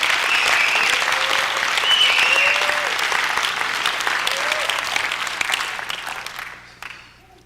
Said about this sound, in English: Clap your hands right there.